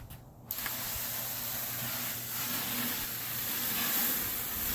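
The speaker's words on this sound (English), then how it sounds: "It's important to keep the meat moist by spraying it with water." Water is sprayed onto a beef filet cooking on a Weber kettle grill, a steady broad hiss that starts after a brief pause and continues evenly at moderate volume.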